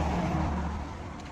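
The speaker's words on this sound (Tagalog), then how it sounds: "Marami na mga sasakyan na dumadaan" Cars pass along a town road with a steady, fairly loud rumble of engines and tyres that eases off slightly toward the end. No voices are heard.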